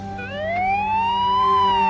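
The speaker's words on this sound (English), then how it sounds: "Like they show off from off-screen, sirens blaring, ready to surround all of the bad guys." Police sirens wail in a video game as patrol cars arrive from off-screen, a rising, sweeping electronic tone that grows louder and holds steady over a low engine hum, with no talking.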